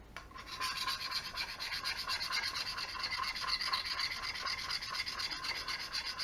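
A paint scraper is rubbed firmly back and forth across a laser-engraved ceramic tile, making a steady, close, gritty scraping that runs through the whole stretch without speech.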